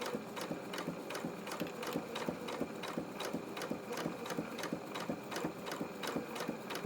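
Sewing machine stitching a vinyl-fronted project bag, a fast steady rhythmic chatter of the needle running continuously at close range, fairly quiet.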